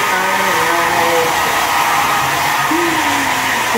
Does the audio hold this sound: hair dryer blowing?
yes